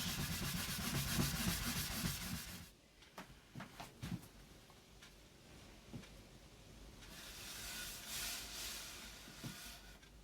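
Rubbing and polishing a surface of a walled garden room box by hand to a smooth, sheened finish: steady close abrasive rubbing at first, then scattered short scrapes and strokes, with a louder rubbing stretch near the end.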